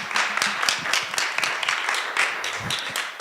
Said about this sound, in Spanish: vamos a darle un fuerte aplauso al doctor José Luis